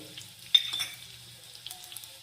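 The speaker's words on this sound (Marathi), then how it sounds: "आता राई टाकते मोहरी आणि जिरं" Mustard seeds and cumin hitting hot oil in a pan, a brief burst of crackling sizzle that quickly fades to faint popping, close and quiet with no talk.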